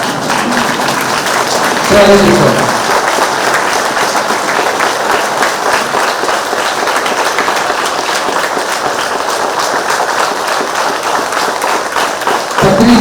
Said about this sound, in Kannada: ಎಲ್ಲರೂ ಒಂದು ಸೆಕೆಂಡ್ ಎದ್ದು ನಿಂತ್ಕೊಂಡು ಜೋರಾಗಿ ಚಪ್ಪಾಳೆ ತಟ್ಟುವಂತ